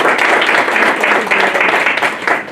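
Applause and clapping for a seminar presenter, a dense steady patter of many hands filling the room throughout, fading slightly toward the end.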